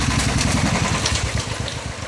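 A motorcycle idles and then passes along a busy Kolkata street, giving a loud, close, steady low engine rumble with slight rises and dips throughout.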